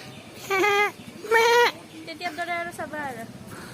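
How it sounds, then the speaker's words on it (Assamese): Goats bleat at a temple compound where monkeys roam: two loud, clear bleats near the start, then a run of shorter, quieter bleats and calls close by, with background noise between them. "ছাগলী ছাগলী"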